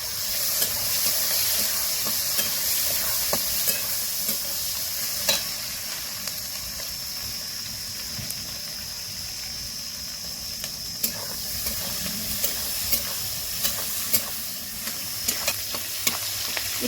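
Onions and green chillies frying in oil for a desi chicken broth, a continuous soft sizzle with periodic sharp clicks and scrapes from stirring, close and steady throughout.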